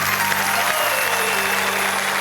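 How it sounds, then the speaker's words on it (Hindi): Loud, dense applause from a kavi sammelan poetry audience welcoming a poet, a continuous wash of clapping over a faint hum, brief and full. "हम जोरदार तालियों से स्वागत करें।"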